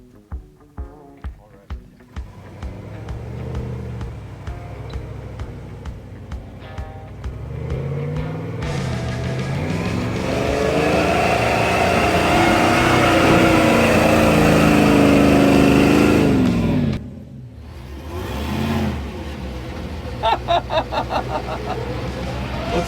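The engine of an off-road wrecker truck drones loudly as the truck climbs a steep hill, rising and falling in pitch under strain, and voices are heard in places.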